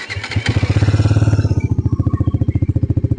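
Bajaj Dominar 400 motorcycle with a dual-barrel exhaust idling up close: a steady, loud, even thumping pulse that holds throughout with no other sounds.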